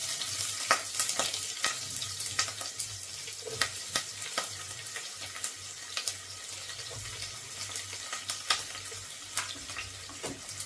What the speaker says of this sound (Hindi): और इसे थोड़ी देर हम लोग फ्राई कर लेंगे, ऑनियन को थोड़ी देर फ्राई कर लेंगे।